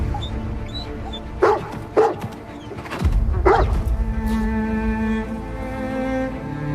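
A dog barks in several sharp bursts at a moderate distance, spaced irregularly over a low, steady background hum with no talking.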